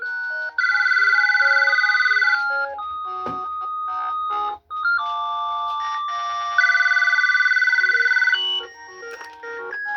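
A GE 28214KE2-A cordless telephone rings with two long bursts of bright electronic warbling tones, separated by a stretch of shorter beeps and tones, close and clear with no talking.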